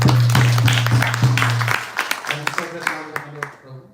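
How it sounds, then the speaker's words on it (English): Clapping from an audience at a house program, brisk and fairly close over a held drone, thinning into scattered individual claps that fade out by the end. "So let's give a big round of applause."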